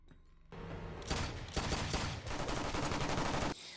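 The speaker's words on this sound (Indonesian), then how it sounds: "menembakkan pistolnya guna mengalihkan perhatian salah satu musuhnya" Rapid pistol gunfire rings out in an action film scene, a dense burst of loud, overlapping shots lasting several seconds after a brief quieter lead-in.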